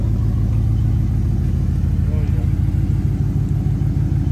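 Ram 1500 pickup with a muffler delete idling and burbling close by, a loud, steady low exhaust rumble with a slight rev swell near the middle, and people talking over it.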